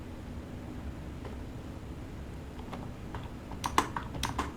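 Keys tapped on a computer keyboard while entering text into a file during a Linux command-line lesson on RHEL 10, with a few faint clicks that grow into a short cluster of louder taps near the end over steady background hiss.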